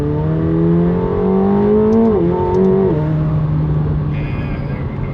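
A 2024 McLaren 750S sports car accelerating, its engine note rising steadily in pitch, dipping briefly at a gear change and then settling into a loud, close drone with no talking.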